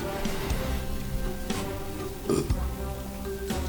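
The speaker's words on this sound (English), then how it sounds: "Excuse me, I'm sorry with all the burping." A man burps several times into a close microphone, short guttural belches spaced out over a few seconds against a steady low background hum.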